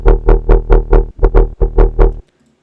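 Short bursts of distorted bass synth tone, a rhythmic pattern of about nine loud, gritty pulses with heavy low end that ends abruptly, dry and close.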